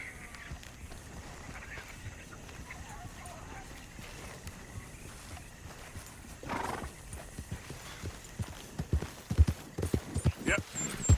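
A horse in the Red Dead video game trots and gallops with clip-clop hoofbeats that start soft and grow louder and quicker, mixed with a whinny, while people talk over it.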